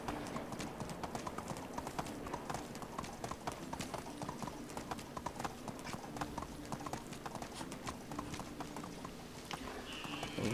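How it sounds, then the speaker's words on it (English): Video game donkey hooves clip-clop in a quick, continuous rhythm while riding, steady and close, with a voice talking faintly in the background. "Oops, ran into a tree on my donkey."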